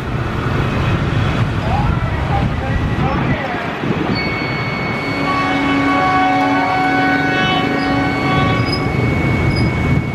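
A train rumbles past close by at Srowot station, Indonesia, with squealing wheels and ringing tonal whines, while people talk over the noise.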